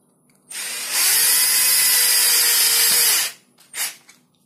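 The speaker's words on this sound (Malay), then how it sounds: "Sekarang saya akan pasang skru ke dalam lubang yang tadi saya drill." A power drill drives a screw into a pre-drilled hole while a shower head holder is fitted. It gives one loud, close, steady whir lasting about three seconds, followed by a brief short burst.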